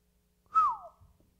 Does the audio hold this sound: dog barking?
no